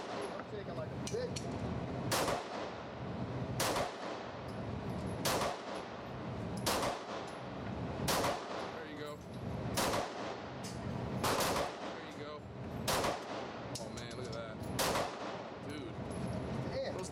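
An AR rifle fires at an outdoor target range, a slow series of about ten loud, sharp shots spaced a second or two apart with echoing tails, while people talk between them.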